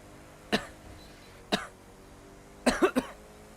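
A person with hiccups coughs: a single cough, another a second later, then a quick burst of three close, sharp coughs, near and loud with no talking.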